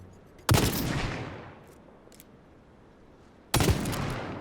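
Two sharp gunshots in the video game Hawked, each a loud crack with a long decaying tail, spaced about three seconds apart.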